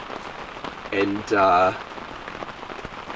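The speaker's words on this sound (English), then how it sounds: "just to the sound of the rain" Steady rain patters on a hot tent during a camping trip, a dense, even hiss of drops throughout, with a brief stretch of talking in the middle.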